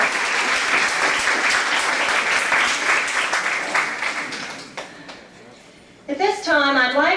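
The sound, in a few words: audience applause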